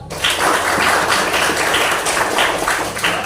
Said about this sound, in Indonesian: Kasih tepuk tangan untuk Alan.